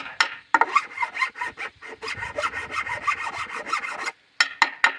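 A file rasps old varnish off a wooden stair tread in quick back-and-forth strokes, a close, scratchy rhythmic scraping with brief pauses between bursts of strokes.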